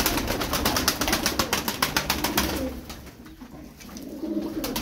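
Arab tumbler pigeons giving a run of soft, rhythmic coos close by, repeating steadily for a few seconds before fading into quieter background.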